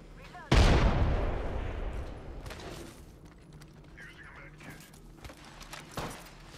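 A loud, close gunshot burst erupts in an Apex Legends squad fight, then rings out and decays, followed by scattered fainter shots and clatter as voices talk over the fighting.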